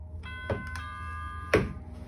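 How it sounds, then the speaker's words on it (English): A toy doorbell rings out a sustained electronic chime, with a couple of soft clicks from the button being pressed. "Can I ring your doorbell?"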